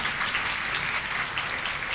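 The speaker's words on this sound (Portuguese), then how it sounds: "Podem bater palmas, por favor." An audience at a book club debate applauds a history professor as he is introduced, a steady, even wash of many hands clapping, moderately loud and unbroken for two seconds.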